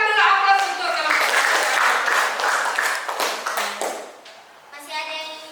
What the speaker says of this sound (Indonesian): berikan dulu aplaus untuk kelompok